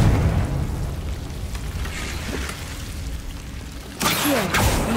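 A Confringo blasting spell in Hogwarts Legacy bursts with a loud, sudden explosive crackle near the end, following a stretch of rumbling ambient noise.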